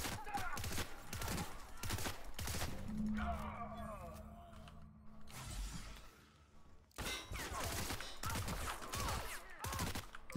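Gunfire from a weapon in The Outer Worlds, repeated sharp loud bursts of shots in clusters with short pauses and metallic clangs, mixed with other game sounds.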